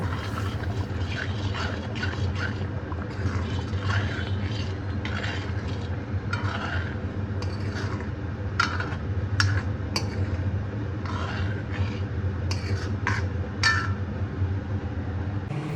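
Dal with jute leaves being stirred in a pot with turmeric and hot water, a steady scraping and clinking of the spoon against the pot that continues throughout, with a low steady hum beneath.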